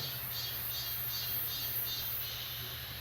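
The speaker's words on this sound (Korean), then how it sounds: "지금 너무 분명해요. 저 매미 소리가." Cicadas singing outdoors on a summer afternoon at a Namhae temple, a steady, dense high-pitched drone pulsing in regular waves over a low constant hum, continuous and fairly loud throughout.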